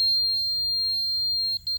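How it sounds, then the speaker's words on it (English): A laser transit level emits a thin, steady high-pitched tone, then a few quick short beeps near the end, faint and clean against a quiet background. "you'll notice if it is low, it beeps fast."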